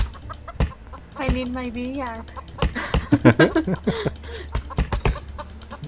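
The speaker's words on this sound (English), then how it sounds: "Darn chickens running around here." Chickens cluck and squawk in quick bursts in the Roblox game Lumber Tycoon 2, mixed with a person talking nearby.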